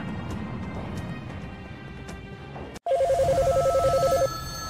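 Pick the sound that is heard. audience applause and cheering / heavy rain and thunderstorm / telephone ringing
telephone ringing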